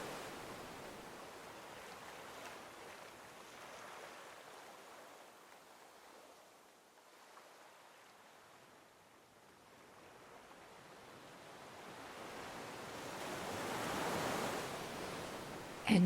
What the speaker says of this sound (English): Enjoy the sense of refreshment the sound of the water brings to you.